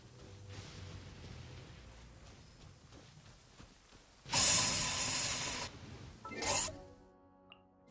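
Rain falls softly in Genshin Impact, then a loud, sudden thunderclap crashes in and rolls for about a second before a second, shorter rumble follows and the sound cuts off.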